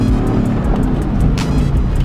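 A Mercedes spinning a donut on dirt during off-road driving, its engine a steady loud rumble that fills the whole stretch, with tyre and gravel noise layered over it and no voices.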